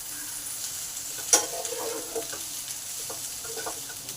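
Potatoes and yardlong beans are stir-fried in a pan, a continuous near sizzle of hot oil broken by a sharp clack of the spatula and scraping stirring strokes throughout.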